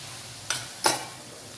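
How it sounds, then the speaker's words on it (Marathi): Wild vegetables stirred with spices such as turmeric and red chili powder in a pan: two brief scraping stirs, close and fairly loud, over a soft steady sizzle. "आपण याला चांगलं परतून घेऊया"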